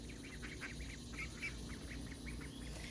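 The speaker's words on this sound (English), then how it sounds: "a couple of them are already starting to quack" Young ducklings on a homestead give a run of soft, quiet quacks and peeps in quick succession, fairly near, over a low steady background hum.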